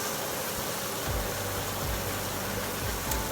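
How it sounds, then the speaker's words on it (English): A steady broadband whoosh of a kitchen exhaust fan runs continuously, with a low mechanical hum underneath and occasional faint thumps. "Sorry about the noise of my exhaust fan here."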